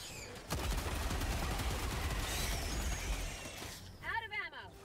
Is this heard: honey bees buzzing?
no